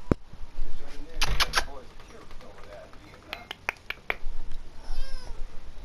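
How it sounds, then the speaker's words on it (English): In-game cat from Mafia III meowing in short repeated calls between clicks and faint background ambience, with a voice coaxing nearby. "Come on, kitty, kitty. Gotta get out."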